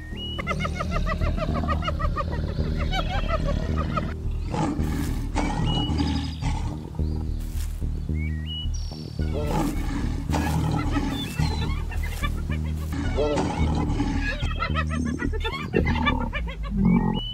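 A lion in the wild growls and roars in a low, rumbling, continuous stretch, with other animal calls scattered over the top and no talking.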